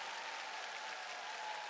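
Family and close friends clapping together in celebration, a steady wash of applause that holds at a moderate distance for the whole moment without any voices rising above it.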